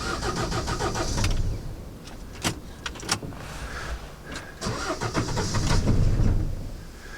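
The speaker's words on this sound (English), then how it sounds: "Right, so let's start this van" A Ford Transit van's starter cranks the engine in two long bursts that do not catch, with clicks and mechanical clunks between attempts, heard close up.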